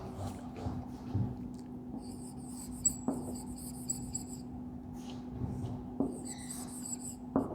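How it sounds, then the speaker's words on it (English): Chalk scratching on a classroom board as an example is written, repeated short rasping strokes with a few sharp taps, close and fairly quiet over a steady background hum. "I am writing here example number"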